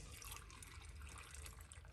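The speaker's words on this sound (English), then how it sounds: "we're going to put some water into it" Water pours steadily into a juicer for beet juice, about a cup's worth, with a soft, continuous trickle heard close up and fairly quiet, with no talking.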